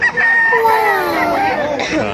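Several roosters crow loudly and overlapping at a crowded chicken market in Baliuag, Bulacan, their calls rising and falling in long sweeps while background voices murmur.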